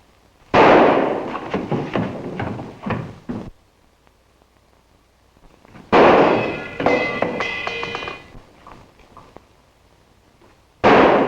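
Gunfire in a 1941 crime film, with three bursts of rapid sharp shots and ricochet-like clangs separated by silent gaps, loud and close.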